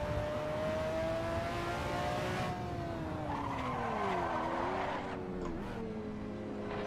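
A 6.5 litre V12 mid-engine car in the Assetto Corsa racing game drones steadily, its engine pitch sliding down and back up through gear changes, with brief tire squeal midway.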